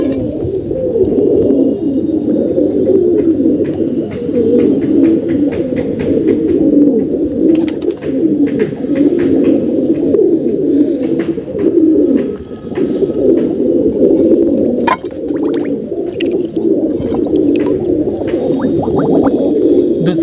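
Pigeons cooing in a loft after feeding, a dense, continuous chorus of low throaty coos from several birds close by, loud and without talk.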